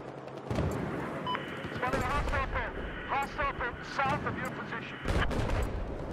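Battlefield 4 gunfire coming from the left: dense bursts of shots and booms from a busy battle scene, loud and continuous, with sharper volleys near the end.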